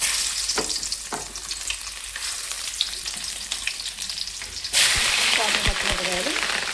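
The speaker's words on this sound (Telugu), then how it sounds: "ఉల్లిపాయలు చక్కగా వేయించుకున్నామండి." Onions frying in hot oil with curry leaves for a carrot curry give a steady, close sizzle with occasional stirring and scraping. A sharper burst of sizzling follows as more goes into the pan.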